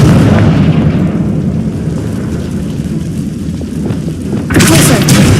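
A Confringo fire spell in Hogwarts Legacy sets off a loud, rumbling explosion with a heavy low boom that lingers, then a sharp second burst near the end.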